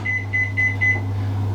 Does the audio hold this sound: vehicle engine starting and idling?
no